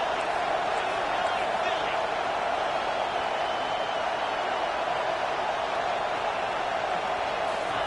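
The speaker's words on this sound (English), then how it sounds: "It is getting loud as this crowd tries to help its defense." A dense, steady roar of a large stadium crowd cheering at an American football game, loud and continuous throughout with no clear pauses.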